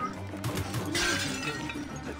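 Objects smashing and shattering inside an Assassin's Creed Origins game scene, with a loud crash building around the middle and continuing breakage and clatter behind it.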